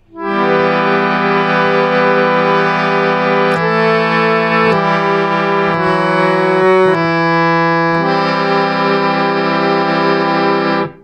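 Harmonium chords with the thumb holding one steady tone while the other fingers shift through the changes, a continuous reedy drone sustained loud and close for about eleven seconds, with chord changes every couple of seconds.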